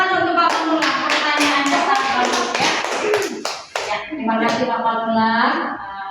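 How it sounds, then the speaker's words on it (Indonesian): An audience at a seminar claps for a speaker, giving sharp, dense claps that run for several seconds with a short pause partway through. Talking rises over the clapping near the end. "tepuk tangan untuk Pak Pamulang"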